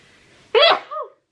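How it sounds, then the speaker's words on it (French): A single close, sharp sneeze, a quick intake followed by a loud burst and a short trailing exhale, in an otherwise quiet indoor setting. "Je vais éternuer."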